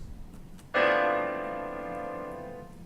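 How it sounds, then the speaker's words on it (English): A single sharp onset followed by a sustained cluster of piano notes struck at once on a digital piano program, ringing out and slowly decaying, close and fairly loud with no talking. "it's like a child hitting on the piano"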